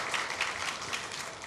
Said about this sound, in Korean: 우리 축복 박수해 주십시다